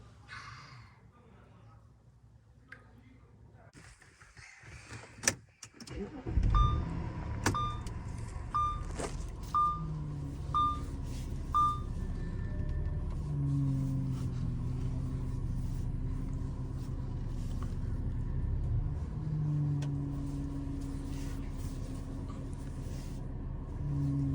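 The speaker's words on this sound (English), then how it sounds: "then we'll start the car and turn the wheel to right and left so we can get rid of all the air in the system" An Audi A6 (C6, 2005-2011) engine starts after a few beeps and then idles with a steady low hum while the steering wheel is turned left and right during a power steering flush, giving a rising and falling drone.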